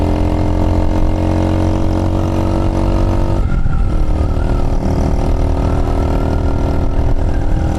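A Chinese motorcycle fitted with a new carburetor runs steadily at close range, its engine drone holding an even, humming idle throughout with a slight shift in tone partway through.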